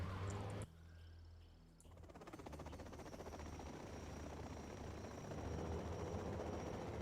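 Chinook helicopters flying in a video game match, a dense continuous rotor chop that holds steady and fairly loud for the whole stretch after a brief opening sound.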